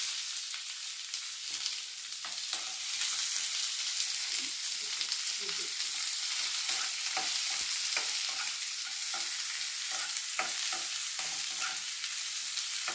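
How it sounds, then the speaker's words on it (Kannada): Thickly chopped onions with curry leaves sautéing in a pan for a drumstick and potato masala curry, giving a steady sizzle broken by repeated scraping stirs, with no talking. "ನಂತರ ಈ ದಪ್ಪಾಗಿ ಹೆಚ್ಚಿಕೊಂಡಿದ್ವಲ್ಲ ಈರುಳ್ಳಿ ಇದನ್ನು ಹಾಕಿ ಬಾಡಿಸ್ಕೋಬೇಕು."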